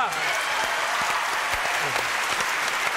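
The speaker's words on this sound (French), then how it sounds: "applaudissements donc pour nos camarades du cirque" A TV studio audience gives dense, steady applause for performers from the Cirque Romarin circus. A host's voice comes through over the clapping.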